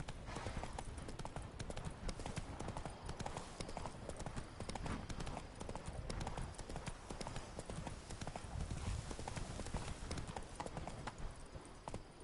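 Horse galloping in The Witcher 3 video game, a steady rapid clip-clop of hooves running continuously at close range over ambient game sound, with a faint whinny and brief spoken urging.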